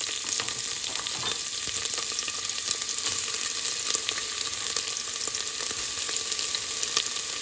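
Bay leaf and spices frying in hot oil for brown rice, a steady close sizzle and crackle with faint stirring scrapes running throughout, no voices.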